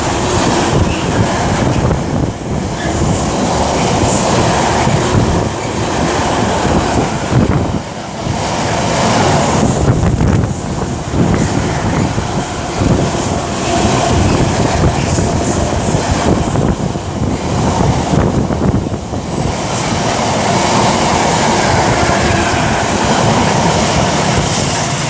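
A Class 66 diesel freight locomotive hauling wagons through Nuneaton station on the West Coast Main Line rumbles past loudly and continuously, with rolling wagon noise, brief dips and wind roar.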